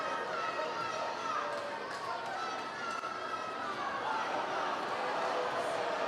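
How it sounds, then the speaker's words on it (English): An arena football crowd of Saginaw home fans boos a Minnesota Monsters rushing touchdown against the Michigan Arsenal, producing a loud, steady, unbroken crowd din that fills the whole stretch. "They will get rained with boos from the Saginaw faithful."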